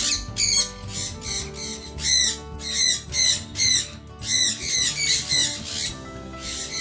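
A house full of more than a hundred exotic-breed parrots gives loud, repeated harsh squawks in rhythmic bursts close by, with chattering birds and a low hum beneath.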